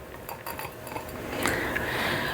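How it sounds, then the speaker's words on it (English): A spatula scrapes a zucchini fritter mixture from a bowl into a bigger bowl, giving a few light clinks and scrapes against the dish. "Get a spatula, get it all out of here."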